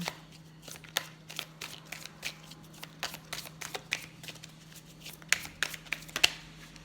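Tarot cards are shuffled and then laid down one by one in a quiet room, making soft, close riffling and flicking snaps with several sharper slaps toward the end, with no talking.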